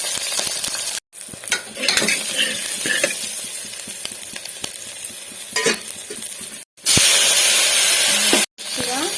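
Onion, green chilli and curry leaves fry in a pan for khichdi, a loud continuous sizzle with stirring scrapes and clinks, cut by brief dropouts and a louder hissing burst near the end.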